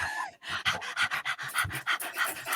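People imitate a puppy dog lightly panting after a romp in the sea, giving a run of quick, rhythmic breathy pants close to the mic, preceded by a brief voiced sound at the start.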